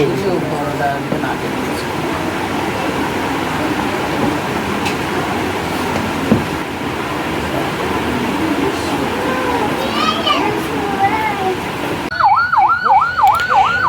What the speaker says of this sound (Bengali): দেখতে পাচ্ছি অ্যাম্বুলেন্সটি ঘোরানো হচ্ছে তাদের বাড়ির সামনে যে পথটা রয়েছে সেই পথের সামনে অ্যাম্বুলেন্সটি ঘোরা ঘোরানো হচ্ছে